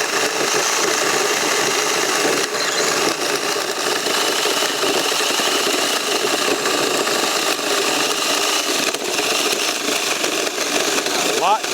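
A Ryobi chainsaw cuts through wood with a loud, continuous buzzing whine held at steady intensity throughout, close up and dominating the scene.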